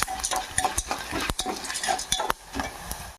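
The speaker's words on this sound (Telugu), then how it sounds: "ఇంక ఇప్పుడు మనం ధనియాలు వేసుకుందాం. ఒక పెద్ద స్పూను ధనియాలు. అవి కూడా కొంచెం మంచిగా ఎగుతాయి" Coriander seeds dry-frying in a pan while a spoon stirs them, giving close rattling scrapes and clinks over a light sizzle in uneven bursts.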